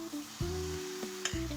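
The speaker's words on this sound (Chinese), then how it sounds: "然后把燕麦糊挖入锅中，" Oat and egg batter, mixed with salt, matsutake filling, flour and black sesame, sizzles steadily in a preheated, oil-sprayed flat frying pan, a close, even crackle with a faint tonal hum and a few soft clinks.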